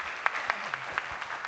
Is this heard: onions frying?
no